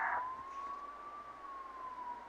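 An ambulance siren drives a single steady, slowly wavering wail through the whole stretch, moderately loud and near, with no speech over it.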